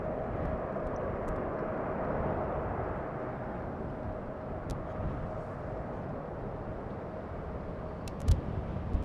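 Jet airliner engines depart runway 36L at Amsterdam Schiphol on a windy day, a distant, steady rumbling roar that stays even throughout, alone with no speech.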